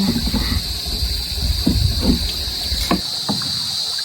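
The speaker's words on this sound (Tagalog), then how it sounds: "Ayan po at bali nakasakay na po ako sa bangka." Water sloshes and knocks against a small rowboat as it moves on a river, with a steady hiss of wind and background noise throughout.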